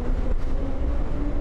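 A subway train in the Anomaly Exit game rumbles along at a steady low roar with faint rail clatter, loud and enveloping as if heard from inside the car.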